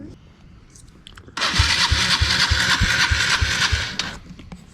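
A dirt bike engine cranks over and over without catching, a loud rhythmic chugging of even strokes that starts abruptly and runs for a few seconds before cutting off, after a quieter stretch.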